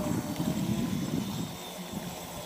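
Volantex Atomic 792-4 brushless, water-cooled RC boat motor at full throttle, a steady, droning whine with a buzzing undertone, close and fairly loud throughout, easing slightly toward the end.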